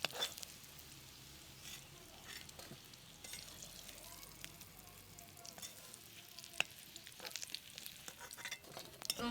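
Fish roe frying in hot oil while being stirred for a Bengali fish egg curry, a faint, steady sizzle with soft scraping and scattered light pops.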